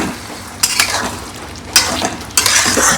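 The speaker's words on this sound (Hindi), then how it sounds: "और इसे भूनते रहना है, अच्छा भूनना है।" Minced raw mutton kofta frying in a pan, with a steady sizzle broken by three loud bursts of stirring and scraping, close up and without speech.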